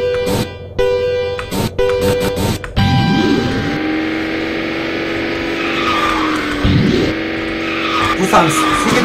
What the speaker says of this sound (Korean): 드리프트 소리만 제일 크게 해볼게요